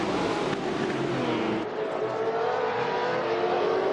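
A Lotus 23 sports racing car at Oulton Park in 1966 drives hard, its engine note sustained and close, rising and falling through gear changes as it races on track.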